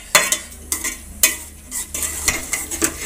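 Beef and macaroni are stirred in a sizzling pan, with a utensil scraping and clinking against the metal in repeated strokes over a steady frying hiss, close and fairly loud.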